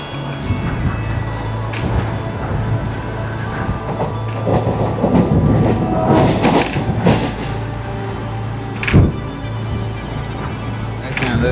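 A sleeper class train running toward Panvel railway station near Mumbai, heard from on board as a continuous rumble and rattle of carriages with irregular clanks and a loud bump near the end.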